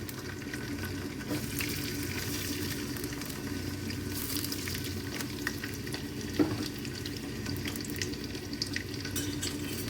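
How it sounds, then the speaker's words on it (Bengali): Chopped onion frying in hot mustard oil in a heated pan, a continuous crackling sizzle with occasional stirring scrapes and small pops, close and steady throughout. "এখন এর ভিতরে আমি দিয়ে দিচ্ছি কিছু পেঁয়াজ কুচি"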